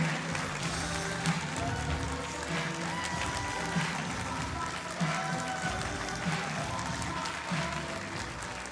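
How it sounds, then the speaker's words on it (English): A Green Party autumn conference audience in Birmingham applauds deputy leader Amelia Womack, a sustained, steady roar of many hands clapping in a large hall, with occasional cheers and voices mixed in. "Conference, give a huge round of applause to our deputy leader, Amelia Womack."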